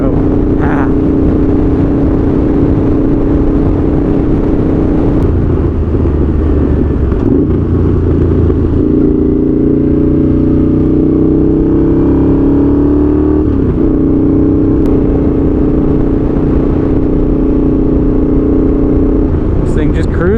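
A Honda GL650 motorcycle cruises along on its first ride, its engine rumble loud and steady throughout, with pitch rising and falling as it revs through gears and people talking intermittently over it.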